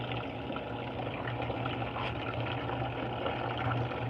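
An Estate ETW4400WQ1 top-load washing machine filling with hot water: a steady, continuous rushing and gushing of water into the tub with a low hum underneath, even and moderately close throughout.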